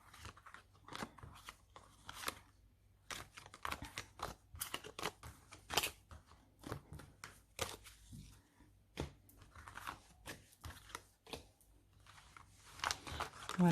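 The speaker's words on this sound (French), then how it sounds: "Permettez-moi juste de ranger les cartes" Oracle cards are gathered and put away by hand, a long run of soft shuffling, tapping and papery rustles, close and quiet, with a voice speaking now and then.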